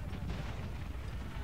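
Musket volleys ring out in an Empire Total War battle, Darthmod, Mughal campaign, as a dense, continuous roar of massed gunfire rolling on without a break, heavy in the low end.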